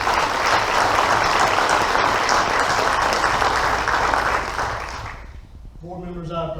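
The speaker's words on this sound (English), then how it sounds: "So let's give Lane Tuggle a round of applause." A large audience at a school board meeting applauds steadily and loudly for several seconds; the clapping dies away near the end as a voice begins speaking.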